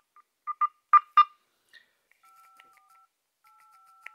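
Keypad dialing tones from an LG Optimus Fuel phone: four short beeps in quick succession, then a few longer, fainter sustained tones, close and clean with no talking.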